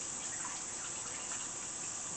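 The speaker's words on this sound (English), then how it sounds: "Wash my hands." A kitchen faucet runs while hands are washed, a faint steady stream of water hissing evenly for a couple of seconds.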